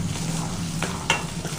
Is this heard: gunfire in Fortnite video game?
no